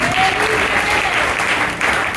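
Dense, steady applause from a church congregation clapping for Jesus, loud and continuous throughout the short burst.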